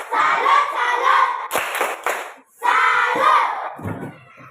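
Children in a classroom doing a rhythmic salute clap together, with sharp bursts of hands and loud chanted group voices, pausing briefly before a second round.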